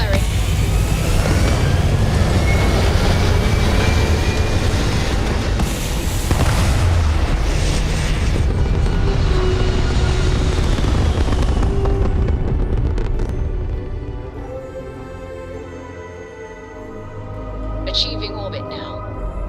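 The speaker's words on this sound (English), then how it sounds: "All thrusters firing." Spaceship thrusters fire in the Starfield video game as a loud, sustained roaring rumble with booming bursts. The roar eases off toward the end, where a faint high whine and a few scattered tones come through.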